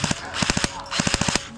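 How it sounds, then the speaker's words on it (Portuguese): Gunfire in a sniper video game set at a camp, with rapid bursts of shots cracking in quick clusters, close and loud. "tá doido, é tiro."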